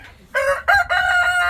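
Rooster crowing on a farm, one loud, close, harmonic cock-a-doodle-doo in a few quick segments.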